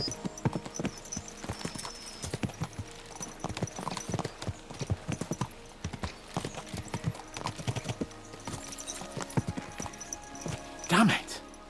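Horses galloping in the video game Kingdom Come: Deliverance 2, a rapid irregular clatter of hooves running on throughout, with a horse's neigh near the end and people talking over it.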